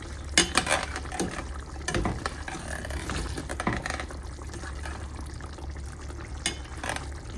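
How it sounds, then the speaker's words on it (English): Beef kofta bubbles in its sauce and is stirred with a spoon. A thick, steady simmer carries scrapes and clinks against the pot, busiest near the start. "Look at our kofta cooking. Just keep stirring."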